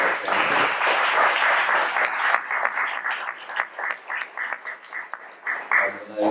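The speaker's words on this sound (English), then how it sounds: "So please join me in a round of applause for our panelists." An audience at an executive talk applauds its panelists, a steady wash of clapping that fades into lighter, uneven claps, with voices talking over it.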